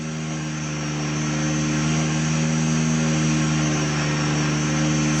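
RC helicopter flying tail slides, a continuous whining rotor and motor drone with steady harmonic tones, loud and close, holding evenly with a slight swell and no talk.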